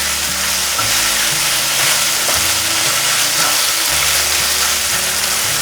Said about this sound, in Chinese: 先煎一煎，等下再来翻动。